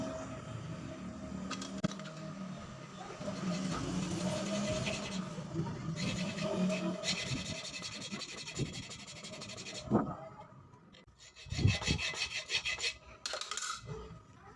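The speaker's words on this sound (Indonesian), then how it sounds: "Terlebih dahulu saya akan melakukannya gergaji pada kanvas otomatis ini." A hacksaw cuts grooves into the automatic clutch lining of a Honda Beat FI scooter that suffers from judder, giving repeated close rasping strokes in bursts, fairly quiet, with brief pauses between passes.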